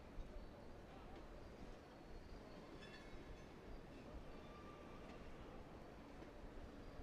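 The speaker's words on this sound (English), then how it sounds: "That train still rolling by." A long train rolls steadily past near a ballpark during a Cape Cod summer baseball game, a constant low rumble with faint metallic tones, heard at a moderate distance under the general ambience.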